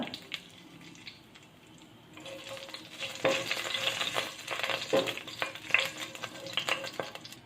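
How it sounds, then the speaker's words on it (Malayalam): Mustard seeds and dried red chillies crackle and sizzle in hot coconut oil in a pan. After a quiet start, a dense, steady frying hiss swells up close, studded with sharp pops and spatters. "ഒരു ടേബിൾ സ്പൂൺ കടുക് ഇട്ട് കൊടുക്കുക ഇനി അതിനകത്തേക്ക് നമുക്ക് രണ്ട് വറ്റൽമുളക് ഇട്ട് കൊടുക്കുക"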